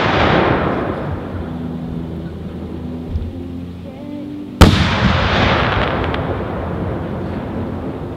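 Coloured peony firework shells from Lidu burst outdoors, with a fading rumble of an earlier shell followed by one sharp loud report and a long rolling decay.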